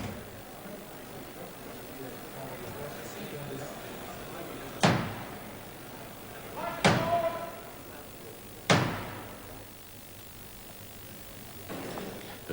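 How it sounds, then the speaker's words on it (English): A heavy door in the Palace of Westminster is shut against Black Rod at the 1982 State Opening of Parliament, giving three sharp, echoing wooden bangs about two seconds apart over a low murmuring crowd. "the door was shut in his face"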